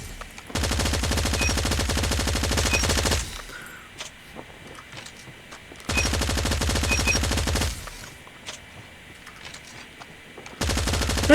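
Sustained automatic fire from an AK117 rifle in Call of Duty Mobile: two long rapid bursts of several seconds each, separated by quieter gaps with faint game ambience, and a third burst starting at the end.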